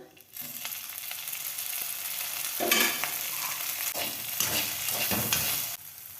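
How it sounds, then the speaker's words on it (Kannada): Okra (lady's finger) fries in oil in a pan for chutney, giving a steady close sizzle with stirring scrapes that swell midway. No one speaks. "ಬೆಂಡೆಕಾಯಿ ಫ್ರೈ ಆಗಿದೆ"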